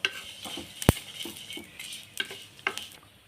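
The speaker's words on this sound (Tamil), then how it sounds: "இதை நல்லா வறுத்துக்கலாங்க. நல்லா பொரியும்." Dry ingredients for a drumstick-leaf (moringa) spice powder crackle and rustle in a pan as they are dry-roasted and stirred, with a sharp clink of a utensil against the metal early on.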